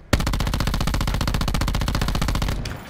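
Rapid automatic gunfire from a weapon in the video game SOG, a steady burst of closely spaced shots lasting over two seconds, loud and close, then cutting off abruptly.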